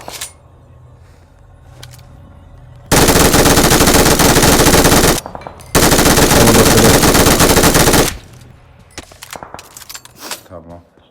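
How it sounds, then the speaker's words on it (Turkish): Automatic gunfire from the mobile video game PUBG Mobile plays as two loud, dense bursts lasting about two and three seconds, separated by a brief pause, with quiet chatter and game ambience before and after. "Mermi atıyorlar."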